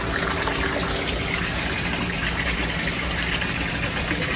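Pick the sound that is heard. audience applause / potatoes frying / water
water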